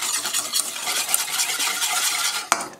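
Sugar and melted butter stirred together in a saucepan for a lemon meringue tart, a steady scraping and swishing that runs close and continuous, ending with a sharp clink of the utensil against the pan.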